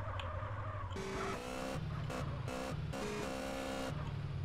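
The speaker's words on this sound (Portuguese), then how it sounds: "A moto tá derrapando." A motorcycle in the game GTA MTA revs in bursts, its engine note rising and cutting repeatedly, with skidding tire noise between the loud, close surges.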